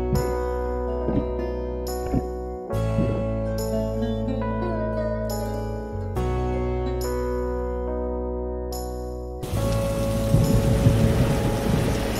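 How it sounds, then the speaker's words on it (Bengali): Rain falls steadily in a Bengali children's cartoon, a dense hiss that swells louder toward the end, layered over background music and cartoon effects. "ইয়ামিন, গরম আরো কমবে যদি তুমি বৃষ্টিতে ভিজো।"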